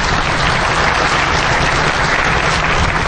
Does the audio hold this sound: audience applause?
yes